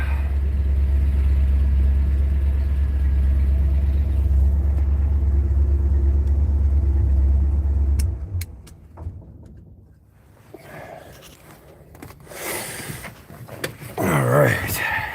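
A diesel engine turns over and settles into a loud, steady low idle for about eight seconds, then drops off, leaving quieter rustling, clatter and handling noises up close.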